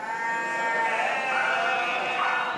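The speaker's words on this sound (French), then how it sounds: "Car les 300 brebis, elles, ne comptent pas se laisser faire." Ewes bleat continuously during shearing, several overlapping sheep calls close and loud with no pause over a steady background.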